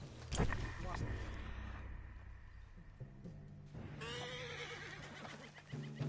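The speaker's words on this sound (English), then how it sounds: "What's wrong with this horse?" A horse whinnies in a Red Dead Redemption 2 scene on PS5, a rising, wavering neigh among background music, effects and speech.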